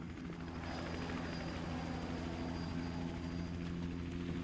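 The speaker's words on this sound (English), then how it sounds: "And now he goes into his helicopter like the little scaredy-ass pussy boy he is." A helicopter in GTA Online flies close by, its rotor beating in a steady, loud whirring drone with engine whine throughout, alone without talk.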